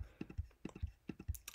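Rapid, forceful mouse clicks while playing computer solitaire, a quick irregular run of sharp taps, close and fairly quiet, with no speech.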